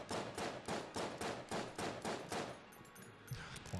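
Rapid, evenly spaced pistol shots from a basic starter gun in the game Enter the Gungeon, fired at chests, about a dozen loud reports in a steady rhythm before breaking off into scattered game effects.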